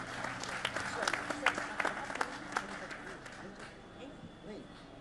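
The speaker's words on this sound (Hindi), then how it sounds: "तालियों के साथ स्वागत कीजिए।" Audience applause and scattered clapping at a literary festival event, sustained across the clip in a large hall with some talk mixed in.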